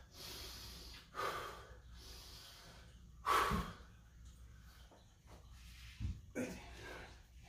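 Deep, heavy breaths during a strength workout, several loud exhalations and snorting bursts spaced across a few seconds, close to the mic, with faint background noise between them.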